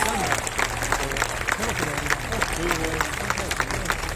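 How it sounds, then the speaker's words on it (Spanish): Steady applause rolls through the crowd at a political rally, with a voice cutting in over the continuous clapping throughout. "gracias por esos aplausos"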